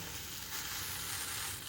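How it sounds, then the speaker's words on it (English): Steady, dense sizzling of bread frying in a hot pan for a grilled cheese sandwich, a continuous crackling hiss with no talking. "That sizzling means I need to turn down my heat."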